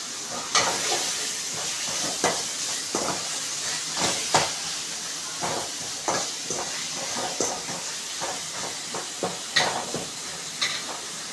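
Tomato thokku with curry leaves sautéing in a pan: a steady hiss of sizzling oil broken by regular scraping strokes of a stirring spoon, close and fairly loud, with no talk.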